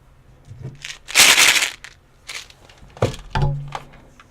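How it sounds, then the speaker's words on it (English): A few dull, muffled thumps and broadband knocks close to a microphone, a couple louder hits in the middle and end, with no talking. "I'm just hitting my hand on the mic."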